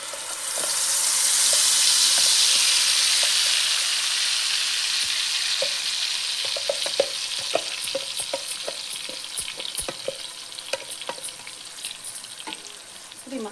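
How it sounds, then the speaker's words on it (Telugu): Masala frying in hot oil for bitter gourd onion-chilli curry, a steady loud sizzle that swells in the first seconds then settles, broken by scraping stirs and small clinks of the spoon against the pan. "ఈ మసాలా బాగా ఫ్రై చేసుకుందామండి"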